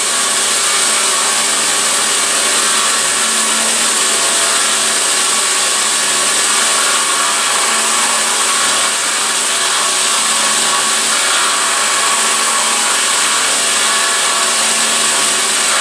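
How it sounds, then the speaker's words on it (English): A CNC mill bores a bearing pocket with a 3/8 inch end mill, a steady, loud machining whir with a high whine that holds evenly throughout, with no talking. "Next up is a boring operation with the 3/8 inch end mill."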